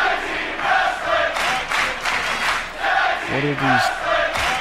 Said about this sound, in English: You hear the crowd here? Going off.